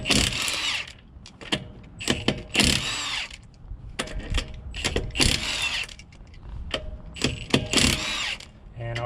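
A power tool, likely an impact wrench, removes a tyre from a stolen car during mobile mechanic repairs, firing in repeated loud, close bursts with short pauses between them.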